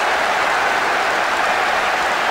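In the eFootball 2023 football video game, a stadium crowd applauds with a steady, dense clapping wash that continues throughout without pause.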